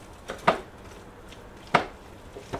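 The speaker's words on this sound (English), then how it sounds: "just kind of chopping it up just a little" Cooked meat being roughly chopped into small pieces before pressure canning, giving a few sharp knife-on-board chops spaced apart, close and fairly quiet, with no talking.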